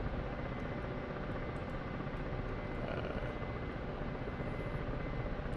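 Ka-50 Black Shark coaxial-rotor attack helicopter in a flight simulator game, a steady, loud broadband rotor and turbine drone running unchanged throughout with no talk over it.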